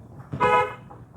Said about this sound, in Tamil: ஹார்ன் அடிச்சிருங்க